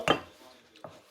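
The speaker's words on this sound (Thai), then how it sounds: "อันนี้แหละค่ะเราก็หั่นอย่างนี้" Knife slicing through pork skin on a board, two short crisp cuts about three quarters of a second apart, close and fairly quiet with faint room noise between.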